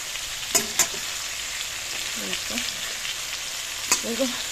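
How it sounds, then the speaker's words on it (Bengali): Fish curry with ginger, cumin, chilli and coriander sizzling and simmering in a pan, a steady close frying hiss with a few sharp clinks of a utensil and some faint chirping sounds in between. "মাছ ঝোলটা বসিয়ে দিয়েছি"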